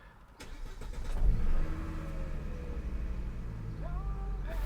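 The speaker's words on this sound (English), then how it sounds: "It does have a good exhaust." A Volvo car engine rumbles steadily, its exhaust swelling as it revs up early on, then holding a low, throaty idle up close.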